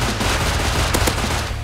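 Gunfire in the survival game Rust, a dense loud rapid burst of shots merging into continuous automatic fire with a couple of sharper cracks near the middle.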